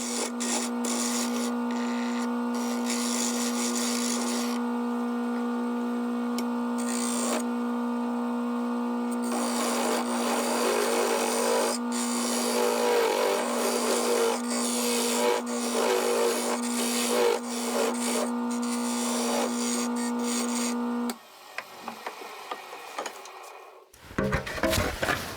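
Miniature wood piece being turned on a lathe, a steady close motor hum with scraping and rasping of the cutting tool that stops near the end, followed by a few brief knocks.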